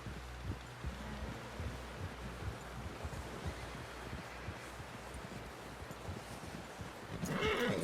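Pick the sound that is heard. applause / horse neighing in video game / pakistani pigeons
horse neighing in video game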